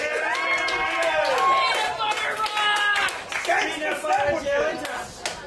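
An audience at a talent show cheers, whoops and claps loudly in a brief burst, with many excited voices shouting over one another before tapering off.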